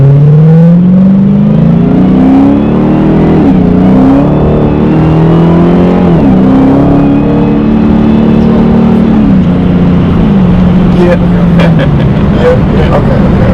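A new supercar's engine pulls hard on a dealer test drive, its loud, close revs climbing through several gear shifts with an engine note that keeps rising and dropping, while people talk inside the car.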